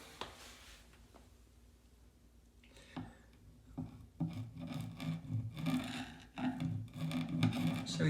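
A chisel scrapes away softened silicone sealant in short, rough, rasping strokes that grow louder and more continuous toward the end, close and alone.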